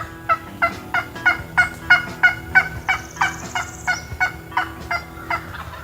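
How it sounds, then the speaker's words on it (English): A trumpet-style turkey call gives a steady run of about a dozen short, evenly spaced yelps, loud and close, with a brief higher squeal partway through. "there's something about the tone of a trumpet that when in the woods, it just sounds like a turkey"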